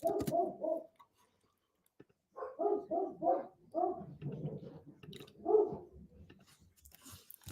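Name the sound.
angry dog barking downstairs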